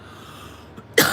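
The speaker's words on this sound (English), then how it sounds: "This weed's giving me the weed coughs." Quiet room hiss, then one sharp, close cough bursts out at the very end.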